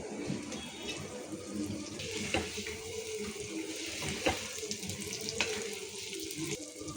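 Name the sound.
water poured into pan for chilli masala gravy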